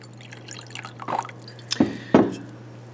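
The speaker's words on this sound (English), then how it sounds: "I'm going to pour this into a sample beaker." Sodium hydroxide solution is poured into a sample beaker in a lab, giving a few sharp liquid drips and splashes that grow louder toward the end, over a steady low electrical hum.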